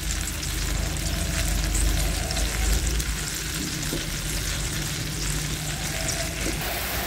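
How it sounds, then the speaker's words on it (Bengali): Water for a surma fish curry gravy bubbles at a steady boil in the pot, a dense, even hiss that continues unbroken, with a heavier low rumble in the first few seconds. "দেখো, জলটা ফুটে উঠেছে।"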